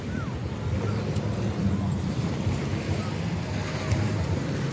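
Sea waves at high tide wash and rumble continuously by a Philippine shore, mixed with strong wind buffeting the microphone, loud and steady throughout.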